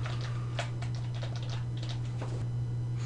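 Keys clatter on a computer keyboard in quick, uneven bursts of light taps while Java code is written, fairly faint over a constant low electrical hum, with no voices.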